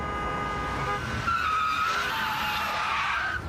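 Car tyres screech under hard braking as a radio advert sound effect, a loud sustained squeal with engine noise that rises midway and holds for several seconds.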